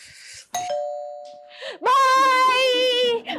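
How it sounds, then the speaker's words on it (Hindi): A household doorbell rings with a clear two-tone chime, then a loud, sustained tonal sound follows close by. "दरवाजे पर बेल बज रही है।"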